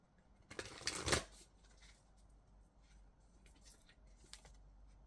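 Moonology oracle card deck being shuffled by hand, a short burst of riffling card noise peaking about a second in, then quiet faint handling and soft flicks of the cards.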